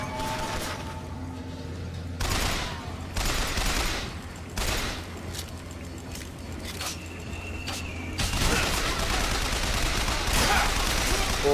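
Loud bursts of shotgun fire and other gunfire in BioShock Infinite, with several heavy blasts and a steady gunfight din that swells near the end.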